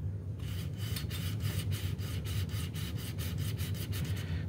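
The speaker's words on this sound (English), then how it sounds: "there's resistance there because this part is rubbing against this ring" An old spider part in a Rainbow D4C vacuum rubs against a ring, giving a close, steady rasping scrape that pulses in regular strokes over a constant motor hum.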